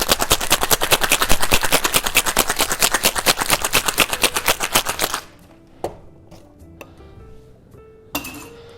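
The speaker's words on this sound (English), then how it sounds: "We'll then add some ice to the shaker. Give it a really good shake." Ice rattles hard inside a cocktail shaker during a vigorous shake for a Dutch Word cocktail, a fast steady run of loud clattering pulses lasting about five seconds, then a few quiet clinks and taps.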